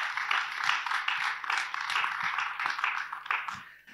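A group applauding during a round-table discussion on a stream, steady mid-distance clapping that carries on evenly before tapering off at the end.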